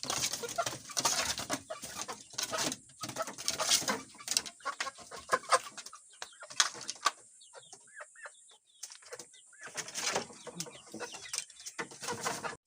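Fighting roosters kept at a family home cluck and crow in repeated bursts, fairly close, with a voice talking now and then between the bird calls.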